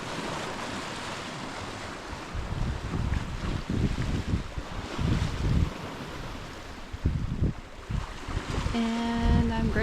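A sailboat moves through gentle waves on Lake Superior off Isle Royale, with a steady wash of water against the hull and wind buffeting the microphone, and a brief tonal beep near the end.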